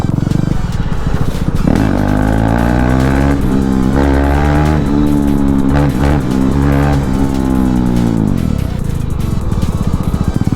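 A KTM Duke 390 Gen 2 (2019) motorcycle ridden on a test ride, its single-cylinder engine loud and close, rising and falling through repeated revs and gear changes with a constant rumbling throb.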